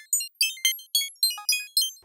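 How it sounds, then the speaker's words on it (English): Synth oscillator with LFO-modulated pitch bend: seven shrill, wobbling notes arrive at a steady pace, each warbling in pitch as it decays, bright and alone. "I added an LFO to it, so it changes the pitch bend as I play it"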